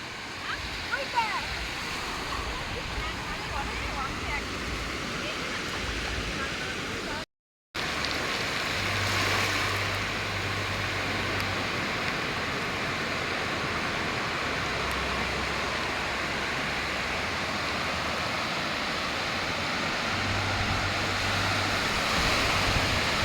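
Waves wash onto a beach at Mandarmani in a steady, broad roar of surf that carries on throughout, close and fairly loud, with a brief dropout early on.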